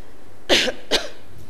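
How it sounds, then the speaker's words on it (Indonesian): Two quick, close coughs from an adult man with a slight cough, the pair coming about half a second apart in an otherwise quiet indoor room. "Ustaz ni batuk sikit eh."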